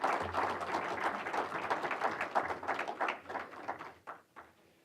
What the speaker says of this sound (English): Let's give him a warm welcome and big round of applause.